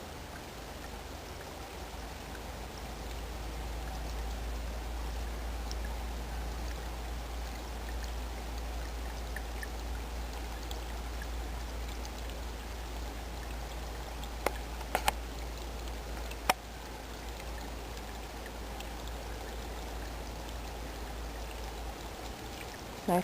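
A clean woodland creek runs in a steady, even wash of flowing water, moderately close and unbroken for the whole stretch, with a few faint clicks near the middle and no voices.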